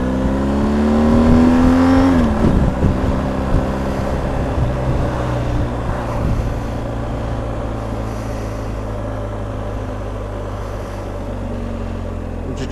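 A BMW R1250 GS Adventure twin-engine motorcycle pulls away, its loud, close engine climbing in revs before easing into a steady drone.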